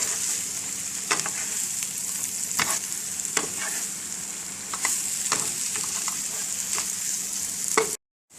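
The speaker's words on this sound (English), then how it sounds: "Toss the spinach around until they are all wilted," Fresh spinach tossed and stirred in a hot frying pan, wilting with a steady close sizzle broken by a few louder scraping stirs, then a sudden stop.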